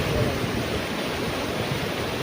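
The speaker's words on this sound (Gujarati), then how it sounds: "આખા પોટા પાણી જાય છે." The Malan river, swollen by heavy rain, rushes past in flood: a constant broad roar of moving water, loud and even throughout with no break.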